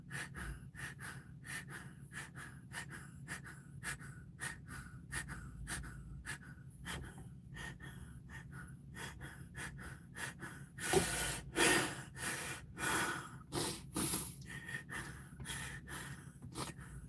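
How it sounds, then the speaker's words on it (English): Heavy, rapid breathing inside a car during a panic attack, quick regular gasping breaths close up that grow louder and more forceful toward the end. "I'm breathing so much, I'm fogging up the car."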